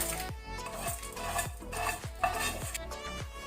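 A utensil stirs and scrapes puliyogare tamarind paste with tempering in a pan in a regular rhythm, with light metallic knocks about twice a second, close and quiet.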